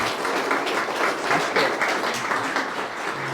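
A wedding ceremony crowd applauds steadily, a dense wash of many hands clapping at an even level for a few seconds with no voices breaking through.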